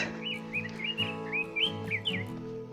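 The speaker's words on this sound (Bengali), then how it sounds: "পাখির আওয়াজ" Small birds chirp and whistle in a quiet hillside setting at Lepchajagat, a run of bright, rising tweets repeating every half second or so, clear and fairly close against a calm, steady background hum.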